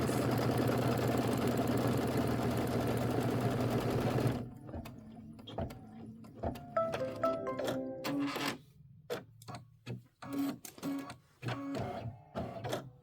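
A Kimberbell embroidery sewing machine stitches a decorative snow-themed hot pad, its steady mechanical whir running loud for several seconds, then giving way to a stop-start pattern of short stitching bursts and pauses.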